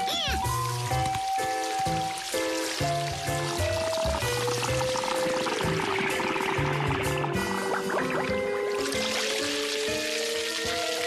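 Water is poured into a sink drain in a cartoon, heard as a continuous splashing pour under a voice speaking and bright musical tones, with the liquid sound growing fuller and brighter toward the end.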